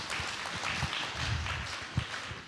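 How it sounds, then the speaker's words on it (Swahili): An audience at an agricultural certification event in Tanzania claps together, a moderately distant, fairly quiet wash of applause with a few sharper individual claps standing out. "Tuwapigie makofi zaidi."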